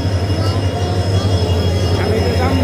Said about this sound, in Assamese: এইখন আমাৰ ট্ৰেইন আহি গ'ল